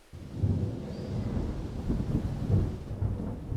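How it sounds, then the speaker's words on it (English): Distant thunder rumbles low and steady, a rolling, muffled roar with a slight swell partway through and no voices, set as an audio drama sound effect. "A distant rumbling rolled in from above."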